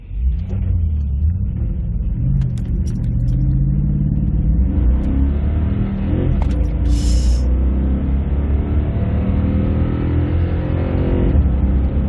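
Toyota Tundra pickup with a throttle controller in drag mode, accelerating hard toward 5,000 rpm, with a loud, steady, deep engine roar and rumble heard from inside the cab and no talk.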